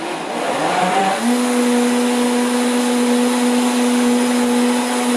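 A blender making a fruit smoothie with ripe bananas whirs loudly and steadily, its motor settling into a constant high-pitched drone after a brief rising start.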